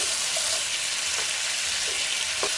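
Chicken frying in a pan gives off a loud, steady sizzle and hiss, with a few faint scrapes of stirring near the end.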